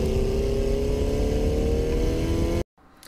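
Car engine revving hard under acceleration out of a sweeping corner, a loud continuous rising drone for over two seconds that cuts off abruptly near the end.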